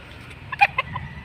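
A chicken gives a few short clucks in quick succession, close and fairly clear over a quiet background.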